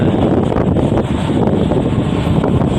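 Strong wind buffets the microphone in a constant loud roar at a grain port in Mariveles, Bataan, with faint sounds of water beneath it.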